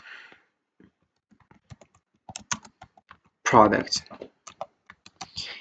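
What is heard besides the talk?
typing on a computer keyboard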